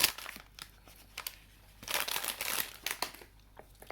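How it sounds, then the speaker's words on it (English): A plastic bag of chocolate chips crinkles and rustles close by in a kitchen, with irregular crackling bursts and a louder sustained crumple in the middle. "You can hear rustling noise and chocolate chips."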